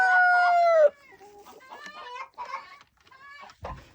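Backyard chickens outdoors in winter: a rooster's long sustained crow opens loudly, followed by a scatter of nearby clucks and squawks from the flock.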